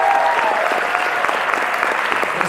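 Audience at a convention panel for the Luke Cage cast breaks into loud, sustained applause filling the room, with a voice faintly over it at the start.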